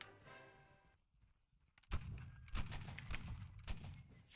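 A gun fires in a naval combat match, a loud booming blast followed by rolling echoing reports and a further thud, after a quieter stretch of engine hum.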